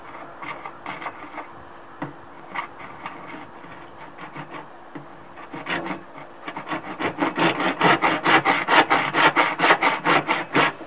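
A hand saw cuts material to length for a homemade boat anchor, first a few scattered scrapes, then a steady run of rhythmic back-and-forth strokes that grow louder and faster near the end, close up with no talking.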